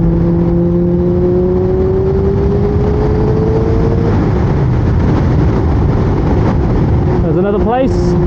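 Motorcycle engine on a country road at golden hour, rising steadily in pitch as it accelerates to overtake traffic, loud and continuous with wind noise throughout and a voice speaking near the end.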